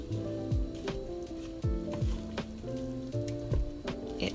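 Garlic and onion fry in a pan on medium heat for a vegan chipotle pasta sauce. A soft, steady sizzle runs throughout, broken by repeated thumps and scrapes of stirring in an uneven rhythm.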